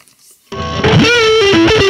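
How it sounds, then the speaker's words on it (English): After a brief silence, an electric guitar bursts in through an AZOR distortion pedal with a loud, crunchy, vintage Vox-like overdriven tone, playing a short sustained riff with shifting notes. "It's more vintage-y sounding and like more voxy sounding, maybe, of a distortion."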